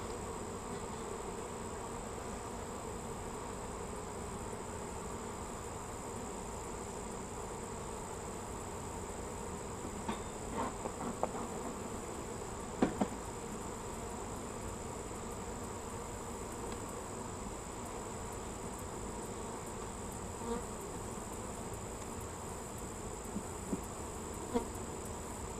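Honeybees hum steadily around an open hive during a late-August inspection, a dense continuous drone with a few faint clicks and knocks, no voices.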